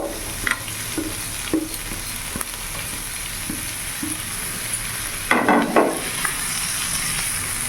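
Capsicum and chopped tomato fry in a pan, a constant soft sizzle with scattered spatula scrapes and clinks and a brief louder burst of stirring midway.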